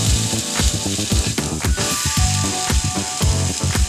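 Breakfast sausage patties sizzle loudly in a hot pan while a spatula presses down on them, giving a dense, steady crackle broken by repeated scraping and tapping strokes.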